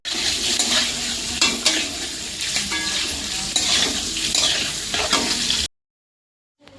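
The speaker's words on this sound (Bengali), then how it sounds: "প্রথমেই দিয়ে দিলাম গোটা গরম মশলা, দুটো লবঙ্গ, দুটো এলাচ আর একটা দারচিনি, সাদা তেলেই দিয়ে দিলাম" Whole garam masala of two cloves, two cardamom pods and a cinnamon stick fries in white oil while being stirred, a close, dense sizzle with spoon scrapes, then cutting abruptly to silence.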